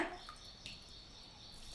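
Water drips and trickles faintly as soaked ration-rice semolina is squeezed out by hand, a short, quiet wet patter.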